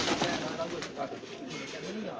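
Pigeons coo softly among rare old-breed birds kept by a fancier in Sialkot, a low rolling call rising briefly near the end, with talk and general background noise around them.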